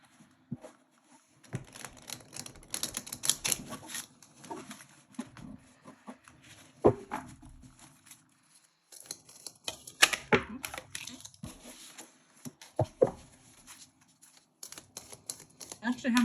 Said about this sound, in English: So I'll do one more shuffle in here.